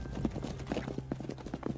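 Horse hooves clip-clop in a steady, brisk rhythm on hard ground during a Western-film chase scene, fairly close and moderately loud, with no clear talking.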